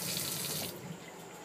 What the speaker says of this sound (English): an on-demand propane hot water heater. And you can hear it kicks on as soon as you turn on the hot water.